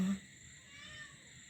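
A cat gives a single short meow right at the start, close and clear, followed by quiet room tone.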